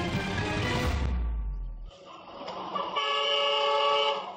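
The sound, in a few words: truck horn honking loudly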